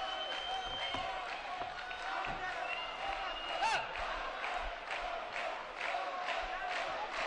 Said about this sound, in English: There's a big Mexican contingency right above the ring, and they're cheering their man on.